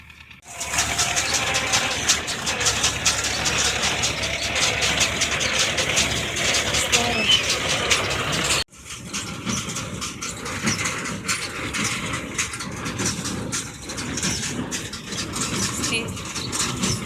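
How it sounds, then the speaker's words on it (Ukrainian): Tractor baler working in a vegetable garden while straw is baled, its engine running steadily and loudly nearby with rattling, then dropping in level partway through. "До нас на город приїхав трактор-тюковщик."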